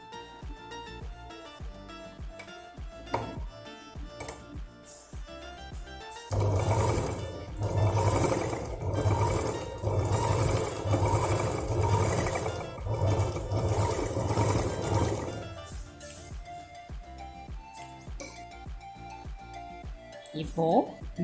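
A sewing machine stitches a small showcase-style purse, running in one loud, steady mechanical burst for several seconds in the middle, with quieter handling noise and some voice before and after.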